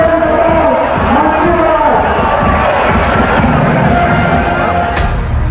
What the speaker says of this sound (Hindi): हजारों हिंदुओं की भीड़ रामनवमी की शोभा यात्रा में शामिल है